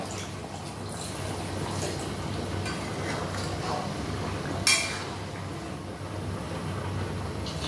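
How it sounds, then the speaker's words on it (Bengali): Water is poured into a chicken reshmi curry in a pan, a soft, continuous splashing wash with a few light metallic clinks and one sharp knock partway through. "এরপর আমি এর মধ্যে দিয়ে দেব একটু জল"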